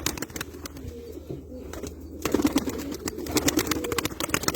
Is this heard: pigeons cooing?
yes